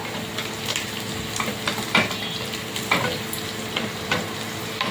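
Spices sizzling in hot oil for a drumstick curry, a steady crackling fry with a stirring spoon scraping the pan every second or so, close and fairly loud with no voices.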